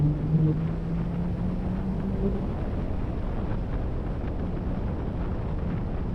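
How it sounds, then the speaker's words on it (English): A loud, rumbling Honda Goldwing DCT engine drones steadily with a low, rough throb, close and continuous, blending into broad wind-like noise, riding the Tail of the Dragon road. "listen to that engine, folks"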